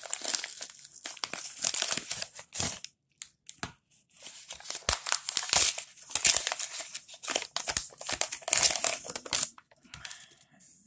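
A paper envelope holding a roll of wheat pennies being torn and pulled open, with repeated close crinkling and tearing bursts separated by short quiet gaps.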